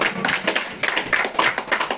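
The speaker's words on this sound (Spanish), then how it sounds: "Palmas fuertes para los padres, por favor," Loud, rapid clapping from a small group of hands, applauding parents at a mariachi birthday serenade in Chimbote; dense irregular claps fill two seconds close to the microphone.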